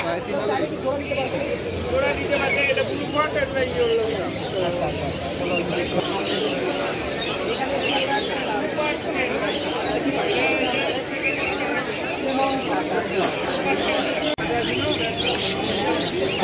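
Parrots and lories in a crowded bird shop in Mirpur, including cockatiels, budgerigars and Amazon parrots: dense, continuous chattering and squawking close by, mixed with a constant background babble of people talking.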